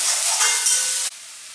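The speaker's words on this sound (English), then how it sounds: "now I'm frying onion" Onion fries in a hot pan with a steady, dense sizzling hiss, close and continuous, then drops abruptly quieter near the end, with no talking.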